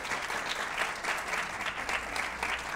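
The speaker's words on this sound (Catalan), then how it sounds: "Un aplaudiment per ells, si us plau" Steady audience applause for students on a Catalan TV spelling-quiz show, a dense patter of many hands held at a constant level across the short stretch.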